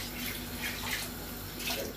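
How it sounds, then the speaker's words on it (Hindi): Roughly eight cups of water pour into a cooking pot holding meat for oxtail pulao, a steady, moderately quiet stream of splashing water with no talk over it. "ये तकरीबन 8 कप पानी डाल रही हूँ मैं इसमें"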